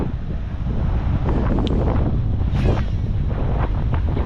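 A strong gust of side wind batters the microphone during bass fishing at Daytona Beach, a loud, continuous rumbling roar with faint water sounds beneath.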